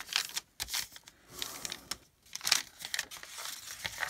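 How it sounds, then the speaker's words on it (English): Paper being folded edge to edge for a Valentine junk journal, soft crinkles and rustles in short bursts with brief quiet gaps, close and fairly faint. "Go ahead and fold edge to edge."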